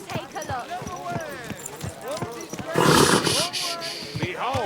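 A horse in the medieval video game Kingdom Come: Deliverance II snorts and whinnies with hoof sounds, mixed under a man's game dialogue and a burst of rougher noise midway.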